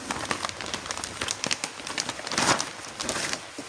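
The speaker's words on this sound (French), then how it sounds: "Alors vous entendez la pluie, je suis dans le garage." Rain heard from inside a garage: a steady, soft patter with scattered crackly drops throughout, no voices.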